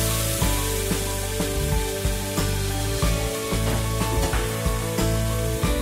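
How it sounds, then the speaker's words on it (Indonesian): Ground spice paste sizzling in hot oil in a pan while cooking jangan, a steady dense frying hiss with occasional stirring clatter throughout. "Tumis bumbu sampai berbau harum"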